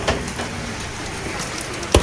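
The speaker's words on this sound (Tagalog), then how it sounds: "Grabe, ulan." Heavy rain pours down in a steady, dense hiss that fills the whole moment, with a sharp knock or thump breaking through near the end.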